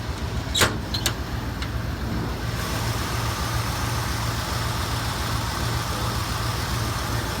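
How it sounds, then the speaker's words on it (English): A 1979 Ford Bronco engine, running well, idles steadily with a low, even rumble, preceded by a few sharp clicks and a metallic clunk near the start. "just open it up, showing you the engine"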